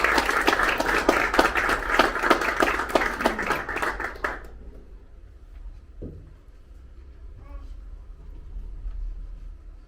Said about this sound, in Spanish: Le damos un fuerte aplauso a nuestros tres amigos.